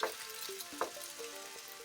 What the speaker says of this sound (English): All I need to do is just soften up these onions and that's it.